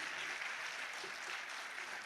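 Audience applause at the final evening of a new-voices singing festival in Vittorio Veneto, greeting a band: steady, dense clapping from a crowd that fills the whole moment at an even level, with no voices over it.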